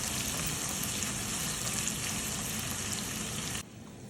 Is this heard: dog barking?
no